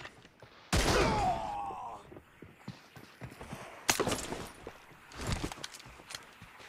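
Gunshots from M24 sniper rifles in PUBG: one loud, booming shot opens the sequence, and another sharp report follows a few seconds later, with smaller rattles and mechanical clicks in between.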